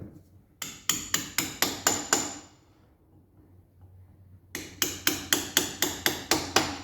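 A hammer drives at a cotter pin on a 1962 Land Rover Series 2a in two sharp bursts of about seven evenly spaced metallic strikes, separated by a quiet pause.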